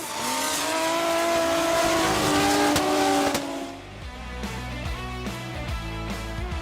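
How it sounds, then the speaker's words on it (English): Drift car at Okayama International Circuit during a Formula Drift Japan top-16 run, its engine revving hard on throttle, dropping off with a brief lull, then picking back up with choppy, pulsing revs, loud and close with no talk. "he's on throttle here, off throttle there, and then back on throttle"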